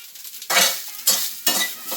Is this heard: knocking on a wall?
no